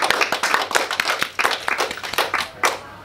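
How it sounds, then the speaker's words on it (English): Pupils and teachers in a primary school honours program clap for a girl, a loose run of distinct hand claps, fairly close and uneven in rhythm, fading toward the end. "Let's give her a clap."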